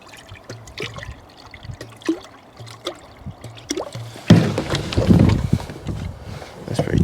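Water pours into a pot for Tapatio ramen, a close, rushing splash that begins abruptly partway through and keeps running, after a stretch of faint clinks and handling noises while someone talks.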